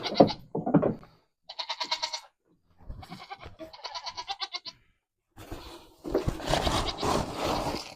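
Goats on a Middle Georgia farm bleat loudly and close by, one call after another, with warbling, pulsing cries separated by brief pauses and some scraping and shuffling near the end.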